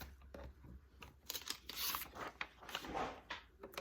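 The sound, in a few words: cutting out an isometric paper shape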